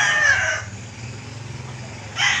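A rooster crows close by in two bursts, one at the start and one at the end, with a quiet low hum in the gap between.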